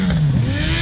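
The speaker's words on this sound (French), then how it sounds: "Voilà l'arrivée encore des motards, des motards, des motards." Motorcycles rolling in together to a charity ride event, with a steady, loud engine drone and a low rumbling note that sags slightly in pitch as the bikes pass close by, under a broad wash of crowd and road noise.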